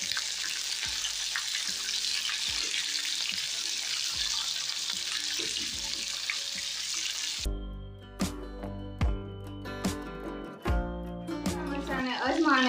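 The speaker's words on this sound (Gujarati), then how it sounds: "ખાલી આપણે એમાં તેલમાં આ રીતના મિક્સ કરી દઈશું એટલે થોડા નરમ પડી જાય મરચાં" Capsicum chilies fry in hot oil in a pan, a loud continuous sizzle that cuts off abruptly partway through, after which a person talks over quieter stirring and faint frying.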